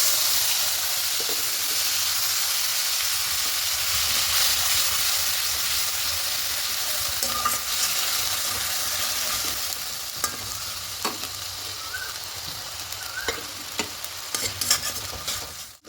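Ginger and green chilli paste fries with potatoes in a pan for a vegetarian potato-paneer curry, giving a steady loud sizzle and hiss throughout, with scattered clinks and scrapes of stirring growing more frequent toward the end.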